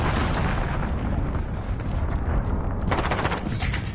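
Heavy explosions from an incoming enemy cruise missile strike in a shooter video game, a dense continuous roar of blasts and gunfire-like bursts that stays loud throughout, with sharper crackling impacts toward the end.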